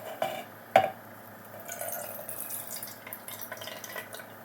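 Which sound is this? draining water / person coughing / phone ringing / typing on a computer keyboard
draining water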